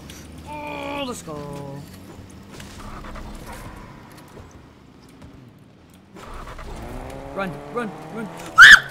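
A truck drives in the video game Fortnite, its engine revving up and down in rising and falling pitches, sometimes loud and sometimes fading, while people talk over it.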